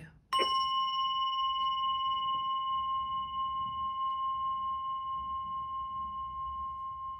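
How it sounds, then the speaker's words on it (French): A small gong is struck once during a full-moon sound healing session, ringing bright and clear, then sustains a long, slowly fading metallic hum over soft background noise. "on commence par écouter ce petit gong"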